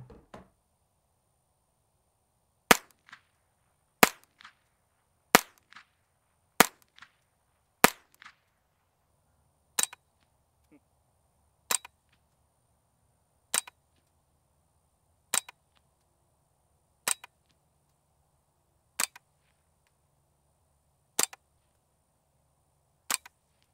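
A TBA suppressed MP15 rifle fires at an outdoor range, about fifteen sharp, muffled reports at a steady pace, each followed by a faint echo.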